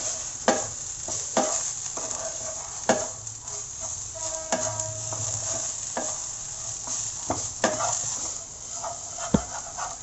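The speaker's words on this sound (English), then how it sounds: "I will be mixing this all together." Kerala-style pepper chicken masala is stirred in a pan, giving steady sizzling with scraping strokes and occasional sharp clinks of the spoon against the metal, close-up and continuous with no voices.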